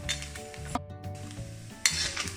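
Grated coconut frying and being stirred in a pan for a Mangalorean postpartum medicine, a soft steady sizzle with a scrape and metallic clinks of a spoon, close and with no talk.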